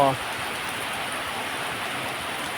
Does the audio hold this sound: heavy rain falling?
yes